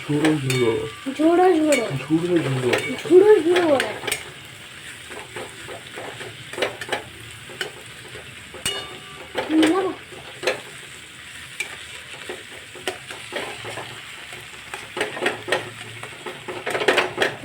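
Egg scrambled into crumbly bits and fried in a pan for homemade egg chowmein: a loud, steady sizzle under repeated rhythmic spatula scrapes and clatter against the metal.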